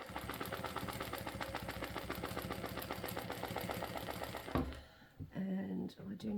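A sewing machine stitches a quilt sample with a stipple ruler template, a close, fast, steady mechanical chatter that stops abruptly near the end, followed by a few faint handling sounds.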